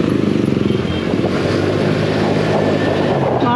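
A Yamaha Mio Sporty scooter buzzes steadily while being ridden through Tondo streets, its small engine loud and close with a constant droning tone and some wind rush.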